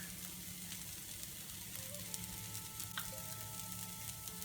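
Finely chopped onions fry in a pan, giving a continuous low sizzle and crackle with faint scraping of stirring, quiet and steady throughout.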